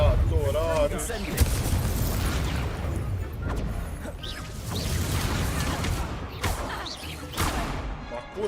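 Incendio fire spell cast in Hogwarts Legacy, rendered as a dense rumble of booming blasts and crashing impacts. The bursts run continuously and loudly through the scene, with game effects layered on top and someone speaking over them.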